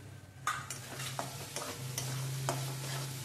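Spoon stirring pav bhaji masala, garam masala and Byadgi red chili powder in hot oil in a pan, with scraping strokes over a steady soft sizzle, close up and with no talking.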